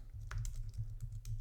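Rapid keystrokes on a computer keyboard while typing code, a close, irregular run of clicks and taps with a low hum underneath.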